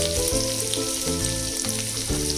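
Ginger garlic paste frying in hot oil that already holds cumin and mustard seeds, with a steady close sizzle running throughout. Low musical tones in the background form a separate layer, and no one speaks.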